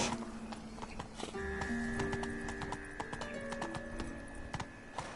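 Hoofbeats of a galloping horse in The Witcher 3 on PS4 make a rapid clip-clop rhythm that runs throughout, with brief tonal game sounds layered over it and no talk.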